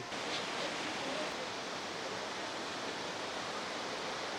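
Ranajillada waterfall near Araku, icy water pouring down in a dense, steady roaring rush that stays even and broadband throughout, with no clear voices over it.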